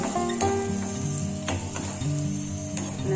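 Flat beans frying in oil with turmeric, a steady sizzle under a sustained hum, with a few sharp clicks of a spoon against the pan.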